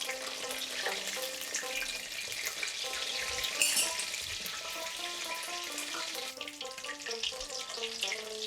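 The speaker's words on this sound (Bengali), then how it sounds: "জালটাকে আস্তে আস্তে কমা বাড়া করে আমি বেগুনগুলোকে ভাজবো" Slices of eggplant frying in a pan for Bengali begun bhaja, with a steady, close sizzle running throughout and faint background music.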